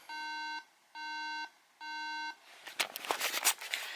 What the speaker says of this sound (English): it starts beeping at me periodically